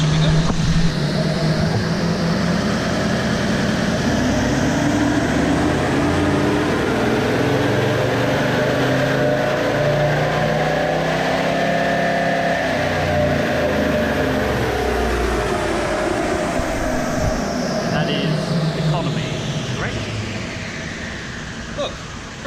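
A tuned Toyota Landcruiser 79 Series with a big exhaust, up pipes, a snorkel and boosted intercooler air runs its engine, a loud, continuous drone that swells in pitch toward the middle and eases off at the end.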